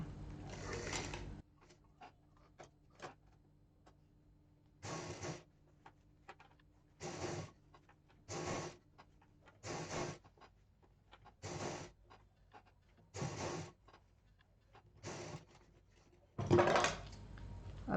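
A sewing machine stitches a line on cloth in about nine short, regular bursts of rapid mechanical whirring, close and fairly quiet, separated by pauses with faint handling clicks as the fabric is moved.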